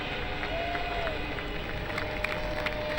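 Steady crowd noise at the 2001 British Grand Prix, a dense wash of applause and cheering at moderate level with a faint engine-like tone running through it.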